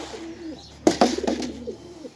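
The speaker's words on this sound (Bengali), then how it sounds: "সব কবুতর হাজির।" Pigeons cooing in a bird enclosure, several soft coos and a few sharper bursts close by, with low hum underneath and no talk.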